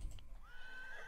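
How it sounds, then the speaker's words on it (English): A horse neighs in Roblox Farm World's winter horse roleplay, a rising whinny that settles into a long, steady, loud call held close up, with a brief clip-clop-like thump at the start and no talking. "I make horse sounds"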